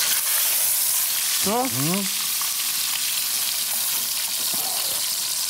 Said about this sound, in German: Bisschen anbraten von beiden Seiten.